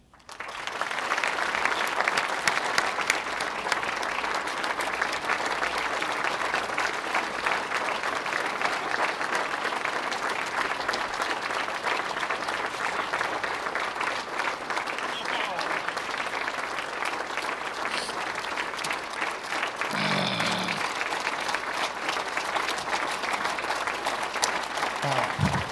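A large audience claps steadily for over twenty seconds, welcoming Sheila and Bob to the stage at a university announcement event, a dense continuous applause that swells briefly near the end.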